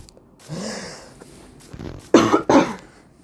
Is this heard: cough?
yes